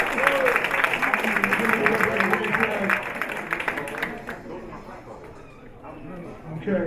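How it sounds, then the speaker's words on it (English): Applause from the audience at a Black History Month celebration luncheon, a sustained wash of clapping that softens midway and lingers faintly, with voices murmuring underneath. "let's give him another round of applause"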